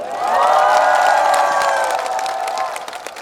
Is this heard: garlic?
no